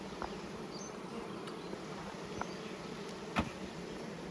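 Honey bees buzz faintly and steadily at an open hive during a queen cell check, with a few soft clicks and knocks from the frames.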